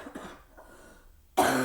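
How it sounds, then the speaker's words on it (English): A single cough from someone recovering from bronchitis bursts out near the end of a quiet stretch, short, sharp and close, following faint breathy throat sounds. "Excuse my cough, I'm getting over bronchitis."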